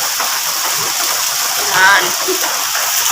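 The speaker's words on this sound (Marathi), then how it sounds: "पण पाऊस कसा पडतोय" Rain falls steadily at night as a dense, even hiss that fills the whole clip, with a brief faint voice-like sound partway through.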